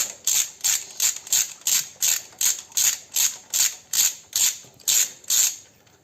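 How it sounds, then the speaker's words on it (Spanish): Ratchet wrench clicking in a steady rhythm of about fourteen bursts while tightening a spark plug on a Seat León to roughly 20–25 Nm torque, close and clear with no talk. "La bujía la vamos a apretar a su par de apriete, le vamos a dar unos 20 Nm, 20-25."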